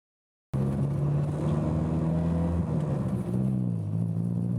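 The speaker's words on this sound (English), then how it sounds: "when I shift the gear into neutral, the RPM slightly drops below, okay, that 800 or you can say 700" K-swapped Honda car with a K24 engine idling in neutral, a steady low droning rumble that starts abruptly and holds evenly with a slight dip near the end, no talking.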